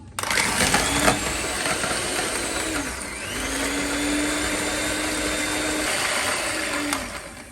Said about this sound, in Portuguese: eu vou fazer com a ajuda de uma batideira